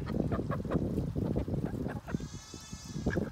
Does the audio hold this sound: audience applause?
no